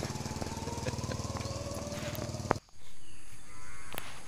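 Cattle pen in a village in Aceh, with a loud rhythmic engine-like mechanical drone pulsing for over two seconds, then a sharp knock and a quieter open ambience with faint farm sounds.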